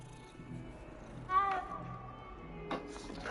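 A black cat meows in Hogwarts Legacy, with two short, faint calls set against quiet background game ambience.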